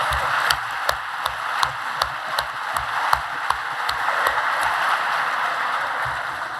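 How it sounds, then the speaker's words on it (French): An audience applauds the rectors at a formal academic ceremony, a steady moderate patter of many hands clapping with sharper individual claps standing out, continuous and without speech. "On applaudit les recteurs, c'est quand même pas mal cela."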